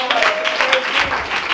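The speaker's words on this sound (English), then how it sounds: "Can you clap your hands and worship him tonight?" Audience clapping hands along during a church gospel concert, a dense wash of claps heard close and steady over a sustained sung or organ tone in the background.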